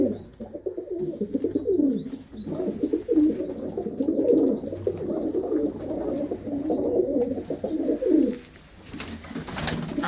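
Low, throaty cooing of pigeons, several overlapping calls nearby, continuing for most of the stretch, with a few faint chirps above.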